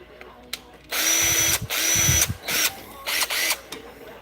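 A Bauer 20V inflator with a brushed motor runs in several loud, whining bursts of about half a second to a second each, separated by short pauses, in a Harbor Freight store, with someone talking between the bursts.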